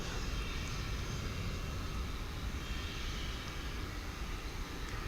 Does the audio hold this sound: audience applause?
no